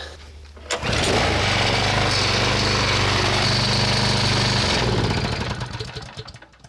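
A lawn mower engine is pull-cord started after a new ignition switch is fitted: a brief yank, then a loud, rough, rapid running clatter for about four seconds before it sputters, winds down and dies.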